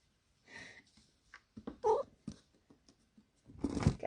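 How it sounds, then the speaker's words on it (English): A pet cat meows and caterwauls close by in short, uneven bursts, with a drawn-out cry at the end. "I think my cat wants to say hi"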